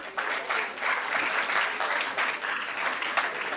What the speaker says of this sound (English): Let's keep the spirit high with the sound of your claps.